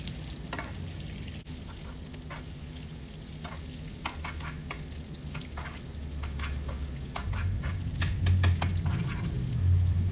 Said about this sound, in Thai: มัชเมลโล่ลงไปนะคะ แล้วก็คนให้เขาแบบละลายเข้ากันนะเพื่อน